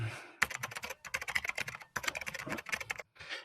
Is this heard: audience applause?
no